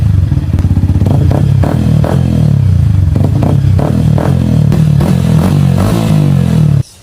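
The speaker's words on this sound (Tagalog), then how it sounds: "After nun ay sound check na tayo ng mga mufflers." A Yamaha R15M motorcycle fitted with a stainless elbow and an aftermarket Yoshimura muffler idles and revs close by. The exhaust burbles loudly with a rhythmic throb and repeated blips, with no talk over it, before cutting off near the end.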